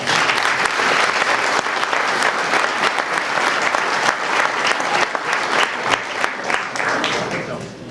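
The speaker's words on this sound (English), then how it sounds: "Please join in giving them all a big round of applause." A large hall audience applauds Bartlett High School Hall of Fame inductees at a 2016 induction ceremony, loud dense clapping sustained for several seconds with faint crowd murmur beneath.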